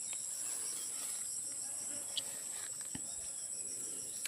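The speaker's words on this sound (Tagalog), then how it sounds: "daming mga insekto mga tsangaw" Many insects chirp steadily in an organic vegetable garden, a dense, continuous high-pitched drone that runs the whole time, with faint distant bird calls and no talking.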